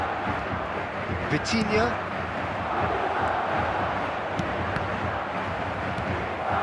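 Stadium crowd noise from a football match in eFootball 2025, a steady dense roar of spectators with a brief swell, heard under a commentator's voice.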